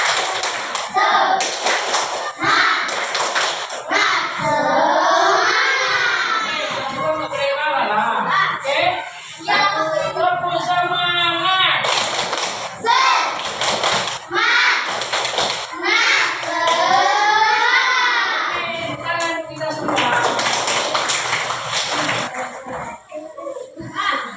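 A third-grade class of schoolchildren performs a rhythmic tepuk semangat clapping chant, sharp, close bursts of sync claps alternating with chanted phrases in a repeating pattern, and a teacher's voice is heard too.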